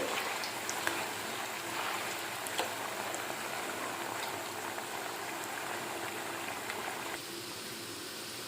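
Potatoes fry in a pan until brown: a steady, fairly soft bubbling crackle with scattered pops that eases slightly toward the end, with no one speaking.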